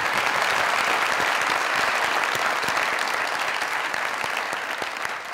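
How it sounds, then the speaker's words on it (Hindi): A studio audience at the Mazaq Raat comedy talk show breaks into loud, continuous applause, a thick wash of many hands clapping that holds steady and eases slightly near the end. "तालियां"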